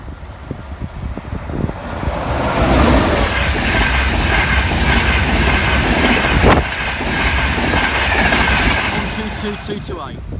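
A London King's Cross to Edinburgh Waverley passenger train rushes past the Bathley Lane level crossing, a loud, close, continuous roar with rail clatter throughout and brief crossing-alarm or horn tones near the end.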